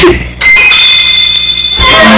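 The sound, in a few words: buzzer sound effect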